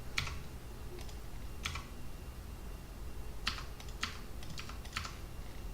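Computer keyboard typing during an X-Plane 11 flight simulator session: short bursts of clicky keystrokes spaced out over a soft steady background hum, close and faint.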